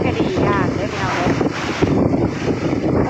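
Wind buffets an outdoor camera microphone, producing a steady, loud, low rumbling roar that continues without a break.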